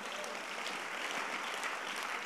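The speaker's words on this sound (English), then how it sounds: "Clap your hands" Congregation at a church vision conference clapping hands, a dense, steady wash of applause held at an even level throughout with no voice rising above it.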